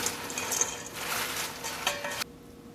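Shredded carrots are tossed into a Brussels sprouts salad in a bowl, giving soft, close rustling and scraping bursts that stop abruptly near the end, with no talking.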